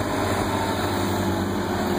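A Vermeer S800TX mini skid steer's engine runs steadily at a constant drone, close and continuous while it works removing silt near a bridge.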